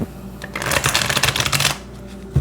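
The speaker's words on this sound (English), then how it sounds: "Let's try one more shuffle." A deck of tarot cards being shuffled by hand, a dense run of crisp riffling flutters for over a second, close and fairly loud, ending in a single soft tap.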